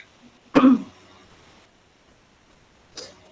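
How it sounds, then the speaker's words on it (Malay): A single sharp cough close by, followed by quiet room tone and a fainter second burst a couple of seconds later. "Maafkan saya, batuk."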